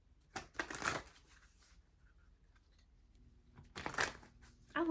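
Tarot cards riffled and shuffled by hand in a quiet room, a few short close bursts of papery flutter separated by pauses.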